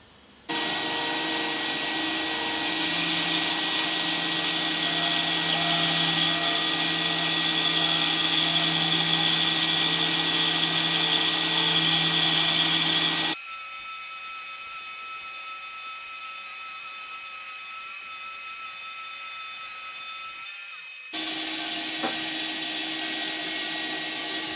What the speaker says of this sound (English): my Shepak HPS20 bandsaw will cut 50mm of maple without any issue